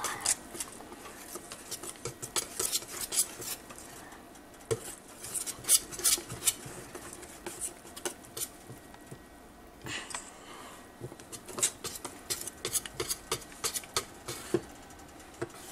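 Strawberry pancake batter stirred in a bowl, a utensil clinking and scraping against the sides in quick, steady strokes, close and fairly quiet with no voices.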